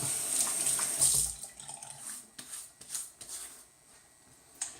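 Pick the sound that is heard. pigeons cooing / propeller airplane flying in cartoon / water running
water running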